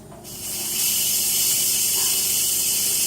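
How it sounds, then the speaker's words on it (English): Steam hisses steadily from a pressure cooker's release valve, rising quickly after a quiet start into a loud, continuous broadband rush that holds without a break. "So this is your pressure release valve. Okay, and if you turn it around this way, I usually start gently to relieve some of the pressure"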